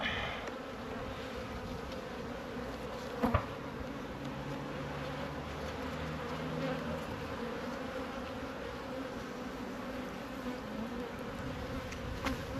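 Honeybees buzz steadily around the brood nest of a hive being split in late summer, a dense, continuous hum that stays close and even throughout, with a brief sharper knock near the start.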